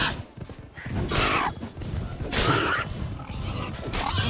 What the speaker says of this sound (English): Oh, goody, it's boars.